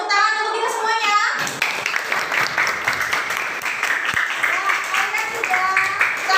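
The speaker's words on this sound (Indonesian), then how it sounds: "Ya, tepuk tangan untuk kita semuanya." Students in a classroom break into applause after group presentations, a dense, steady clapping that fills the room for several seconds, with children's voices mixed in.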